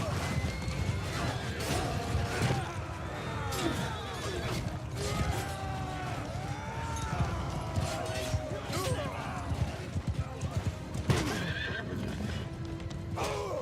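Horses in the Old Realms mod gallop and neigh repeatedly amid a busy battle din, with hoofbeats and whinnies layered over clashing noise while people talk throughout.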